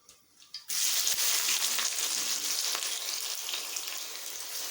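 Onions dropped into hot oil while cooking chicken feet give a sudden loud hiss that starts after a quiet moment, then settles into a steady, dense crackling sizzle heard up close with no talking.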